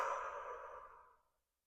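A long, forceful exhale pushes all the air out of the lungs as a stomach vacuum exercise begins, a close breathy rush that fades to silence after about a second.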